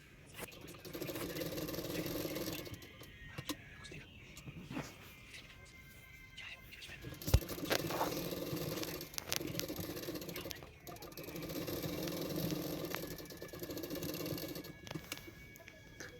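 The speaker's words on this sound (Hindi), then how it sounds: "उसकी किनारे किनारे पे मैं सिलाई कर रही हूँ।" A sewing machine stitching along the edges of a Sabyasachi-style blouse, running in bursts of whirring, rattling mechanical noise that start and stop, separated by brief pauses and a few sharp clicks.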